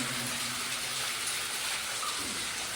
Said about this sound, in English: Little waterfall in the mine.